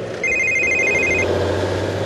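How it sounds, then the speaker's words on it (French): A telephone rings inside a vehicle while someone drives on a delivery round, with repeated electronic ring bursts over a steady low engine and road hum. "Vous entendez juste votre téléphone sonner."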